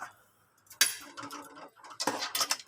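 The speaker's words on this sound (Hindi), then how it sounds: "दही ऐड करने के बाद अब हम इसे अच्छी तरीके से मिक्स करेंगे।" A utensil scrapes and clinks against a pan as yogurt is stirred into chicken karahi, with scattered irregular metallic ticks and clatters separated by short near-silent pauses.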